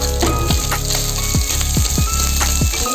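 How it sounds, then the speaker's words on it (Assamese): Fish head, boiled potato, green and dried chillies and onion frying in a pan, a steady loud sizzle with several sharp stirring scrapes and clatters spaced through it, close and continuous with no talking. "এইখিনি এতিয়া অকণমান ভাজিম"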